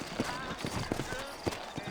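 Horse hooves clip-clopping in a Red Dead Redemption 1 remaster town scene, a few soft, irregular hoof strikes at moderate distance, fairly quiet beneath people talking.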